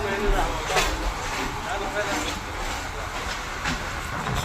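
A Mumbai local train ride carries a steady, moderately loud rumble and hiss of the moving carriage, with rattling and voices talking over it.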